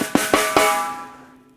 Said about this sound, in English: drum sounds like this